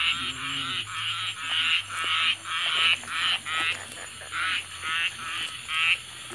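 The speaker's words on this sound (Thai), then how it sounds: "เสียงกบเสียงเขียดร้อง" Many frogs croak at night in a dense, rhythmic chorus of repeated rasping calls, close and fairly loud, with a steady low hum underneath.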